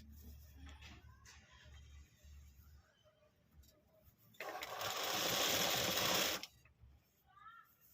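A sewing machine sews a double-folded border on a readymade top, running in one steady two-second burst close by, with quiet handling noise before and after.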